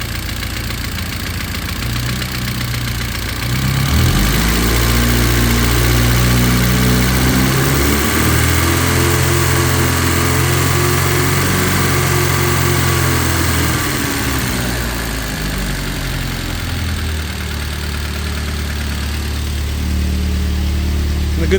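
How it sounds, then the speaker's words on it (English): Close up, an Alfa Romeo stepnose engine idles unevenly for about twenty seconds, tappety and rattly, its low rumble swelling briefly as the revs lift and then settling back. "Probably need to adjust that idle a bit, but a little bit tappety, a little bit rattly"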